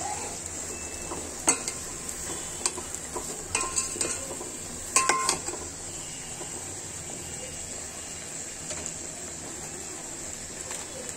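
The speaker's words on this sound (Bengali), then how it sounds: "নেড়ে দিচ্ছি" Beef curry with onion leaves is stirred in a pan over a constant high sizzle, with scattered scrapes and clinks of the spoon against the metal and no talk.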